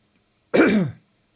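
A single throat clearing, close and fairly loud, lasting about half a second, with silence before and after.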